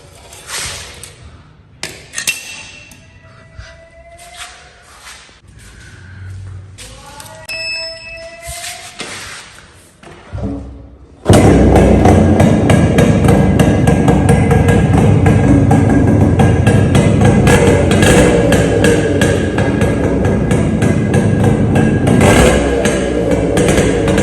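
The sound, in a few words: Yamaha RX135 motorcycle engine running without muffler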